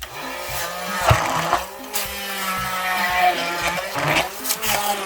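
A hand blender whirs steadily for several seconds, its motor pitch wavering as it churns and chops through watermelon, splattering, loud and close with no talking.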